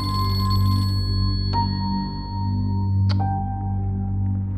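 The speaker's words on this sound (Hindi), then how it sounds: "अम्मा फोन क्यों नहीं उठा रही?" A telephone rings on and on without being picked up. The electronic trills are clear and repeat over a low background hum, with no voices.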